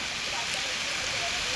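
Rain falls steadily outdoors, a dense, even hiss of drops close by that runs unbroken through the whole short stretch with no other clear sounds over it.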